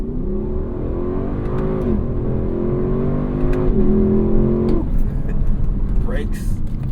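A Lexus LC 500 convertible's V8 climbs through the gears, rising in pitch in successive pulls with brief drops at each shift, heard from inside the cabin, loud and steady.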